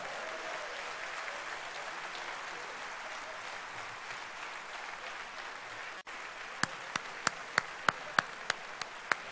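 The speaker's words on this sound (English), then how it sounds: "Give her a big round of applause." A large conference audience at a Rotary district women's event applauds Minister Smriti Irani in a long, steady wash of clapping, followed near the end by several sharp, distinct nearby claps standing out above the crowd.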